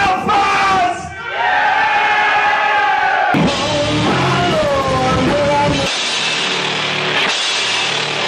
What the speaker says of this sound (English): I'm just gonna say hello and hopefully everybody screams your lungs off.